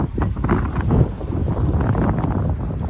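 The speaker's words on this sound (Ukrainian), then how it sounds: "вітер дме." Steady gusty wind buffets the microphone by the Black Sea in Odesa, a continuous low rumble and roar with no other clear sounds.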